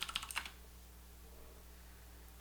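Short burst of computer keyboard typing, about half a dozen quick clicks in the first half second, followed by quiet room hum with a faint click at the end.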